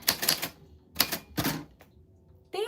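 Live typing on a typewriter-style keyboard: a few short bursts of crisp key strikes close up, separated by quiet gaps, with one last clack at the end.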